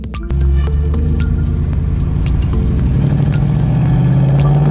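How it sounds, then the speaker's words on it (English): Remapped Mercedes C63 with 60 bhp extra power driving on the road, its deep engine drone steady and loud throughout after a brief quiet start, with faint clicks over the low rumble. "So now with 60 bhp more power, it's time to see what that feels like when we take it on the road."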